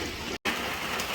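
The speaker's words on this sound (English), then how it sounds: "It's like literally like a storm is going on. It's been raining all morning, cats and dog." Heavy rain pouring down during a storm in Jamaica, a dense steady roar of falling water close by, with one very brief dropout.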